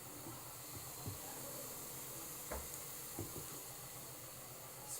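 Potatoes and onions fry in a pan with a steady, soft sizzle and hiss throughout, broken by a few faint clinks and stirring taps, all fairly quiet with no talking.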